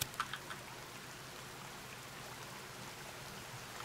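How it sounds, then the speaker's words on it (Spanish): Steady rain falls in the survival game The Forest, a continuous even hiss of drops that holds at one level throughout, with a few faint clicks near the start. "Claro, pero está lloviendo."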